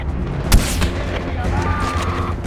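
Artillery shells hit during Far Cry 4 gameplay: one sharp, heavy boom is followed by a rumbling tail and lighter distant impacts, with loud, dense battlefield noise throughout.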